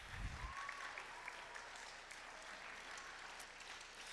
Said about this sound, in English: you can all clap for yourselves